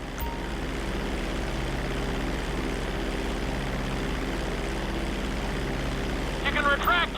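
A propeller airplane's engine drones steadily and loud while gathering speed for takeoff in Grand Theft Auto V, a constant throbbing hum with a few brief higher chirps near the end.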